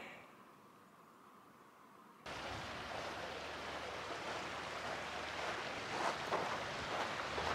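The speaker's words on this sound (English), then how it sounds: "This is the mighty Salmon River." The Salmon River rushing near its source along the Pacific Crest Trail below Timberline Lodge, a steady broadband roar of flowing water that starts abruptly and stays close and constant, with no talk.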